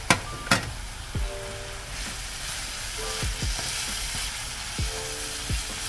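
Half a kilo of minced meat sizzles on onion in a pan, a steady frying hiss broken by a few sharp clinks and scrapes of stirring.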